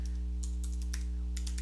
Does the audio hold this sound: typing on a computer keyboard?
yes